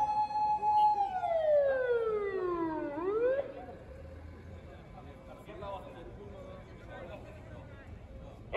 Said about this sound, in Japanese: 救急車来ました。